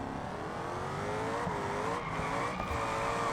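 A car in the BeamNG driving game pulls away with a steady loud engine drone and rising whine, continuous and close with no pauses.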